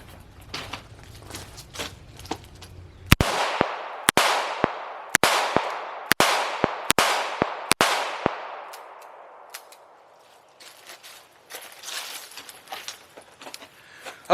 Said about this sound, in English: So let's shoot it 6 more times and about the same distance